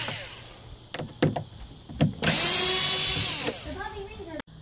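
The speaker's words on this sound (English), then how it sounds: "Pull off these four Phillips head screws." Power drill whirring as it backs out four Phillips head screws holding a front door speaker in a Subaru Outback, with a sustained close motor run after brief clicks and handling knocks.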